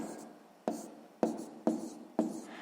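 Pen or pencil writing on paper while working a sixth-grade math exercise: four sharp stroke onsets, each trailing into a scratchy scrawl that fades before the next, close and fairly quiet, with no voice.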